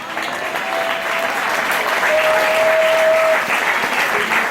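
Church congregation applauding and cheering the Lord during worship, a steady roar of clapping from a large crowd that swells slightly and holds, with a faint sustained tone underneath.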